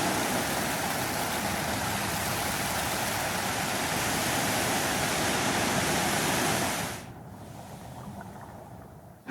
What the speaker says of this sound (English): the whirlpool will slowly dissolve, or not dissolve, but drain all the water into the lower section